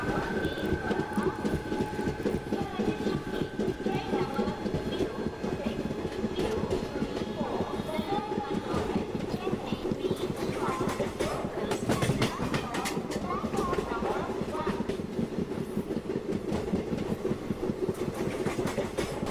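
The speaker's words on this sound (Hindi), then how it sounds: "यहाँ पे अपनी ट्रेन ने पकड़ लिया स्पीड, 110 की रफ्तार में चल रही है नॉन स्टॉप।" Kaveri Express passenger train cruising non-stop at about 110 km/h, a steady rolling rumble with rapid clickety-clack of wheels over rail joints, heard from on board and continuous throughout, with a faint voice in places.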